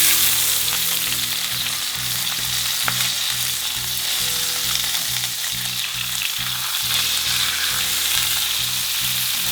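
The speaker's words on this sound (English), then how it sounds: "I'm going to fry it for another 3 minutes the other side" Salmon fillets fry in a pan after being turned, a loud, continuous close sizzle with no talking.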